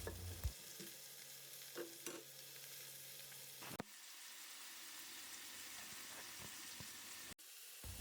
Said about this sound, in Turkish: havuçlar ve soğanlar kavrulduğu üzerine yıkadığım pırasaları ekliyorum